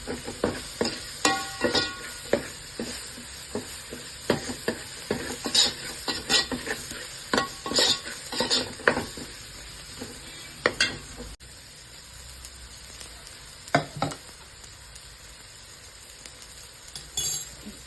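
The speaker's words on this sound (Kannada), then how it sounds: "ಇದು ಸ್ವಲ್ಪ ಸಾಫ್ಟ್ ಆಗೋವರೆಗೂ ಫ್ರೈ ಮಾಡ್ಕೊಳ್ಳಿ." Tomato fries in a pan for bidiru kalale palya, a bamboo shoot dish, with a soft sizzle beneath repeated sharp clinks and scrapes of a stirring spoon against the pan, busy at first and sparser later; no voices.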